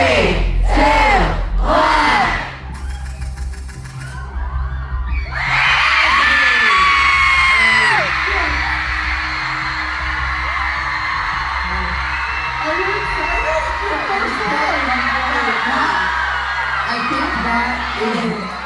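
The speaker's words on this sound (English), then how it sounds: "I think that has to be the loudest crowd reaction" A loud crowd erupts in cheers, whoops and yells after a countdown at a surprise party tour event in Boston. The roar bursts in, then holds steady and dense to the end.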